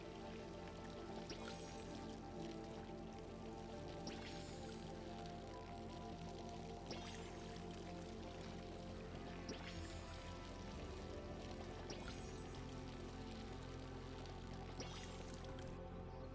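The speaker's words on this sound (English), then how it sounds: "We decided to water our plants real quick once more." Plants being watered in the video game Palia, with soft repeated pouring and splashing water bursts recurring every couple of seconds over a quiet, steady musical background.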